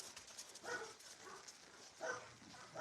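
Dogs at an animal shelter on a hot summer day give a few short barks and yips, three brief bursts at moderate distance over quiet background.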